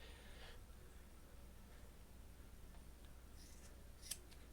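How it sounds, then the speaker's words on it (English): Scissors snip through the trimmed ends of a paracord build, a couple of faint, quick cuts near the end against a quiet, hissy background. "take your pair of scissors"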